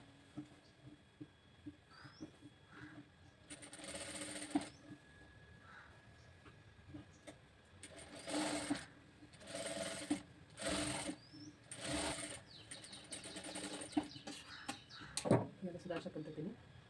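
Sewing machine stitching the hook strip of a 32-size princess-cut blouse, running in several short whirring bursts with pauses between, close and moderately loud, with someone talking faintly at times.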